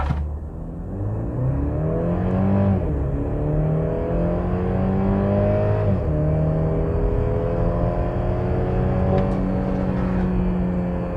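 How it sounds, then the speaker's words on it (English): A 2023 Mercedes GLC 300 SUV pulls away hard from a standstill on an uphill road. Its engine note climbs steadily through gear changes, heard from inside the cabin as a strong, continuous whir. "put the foot on the brake and hit the accelerator"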